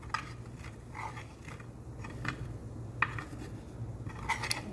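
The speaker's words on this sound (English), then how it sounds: "So I'm just stirring it around." A utensil stirs flour roux in a pan, making faint scraping and light metallic clinks at an uneven pace over a low background hum, quiet and close.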